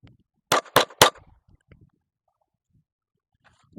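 Three sharp pistol shots from a Ruger RXM, a Glock-style handgun, crack in quick succession at close range, followed by faint clinks and quiet handling noise.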